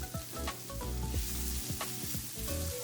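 Roughly chopped onion sizzles steadily in the same pan used for pork chops, a continuous frying hiss broken by scraping stirs, with no voices.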